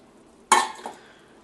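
Jalapeno peppers and garlic drop into a pan of frying onions. A single sharp sizzle and clatter bursts out, then quickly fades.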